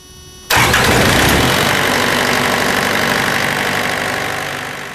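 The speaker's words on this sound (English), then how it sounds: "The unit will then automatically preheat and start." A truck refrigeration unit's diesel engine cranks and catches after a brief preheat hum, then runs loud and steady at a mid-pitched idle, close by and without any voices.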